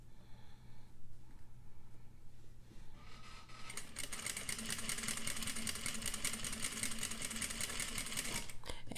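Sewing machine running steadily as it stitches a bias bound seam finish, a continuous mechanical whir that starts after a few seconds of quiet and holds loud until it stops near the end.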